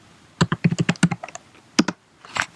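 Quick bursts of close, crisp keystrokes on a computer keyboard while a command is entered, a brief pause, then a final pair of taps and a softer key press.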